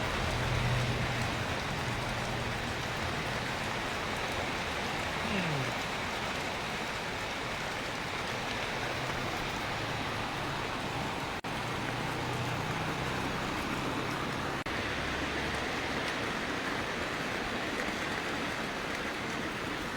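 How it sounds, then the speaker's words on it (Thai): Steady rain pours down in the early evening near a solar-panel water-pump setup, a dense, even hiss of drops on surfaces filling the whole stretch with no talk. "โอ้ยฝนตกดี"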